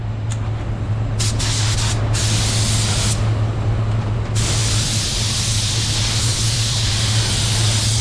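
A spray gun lays down clearcoat paint in a continuous loud hiss close by, with a few brief breaks near the start before it runs steadily to the end.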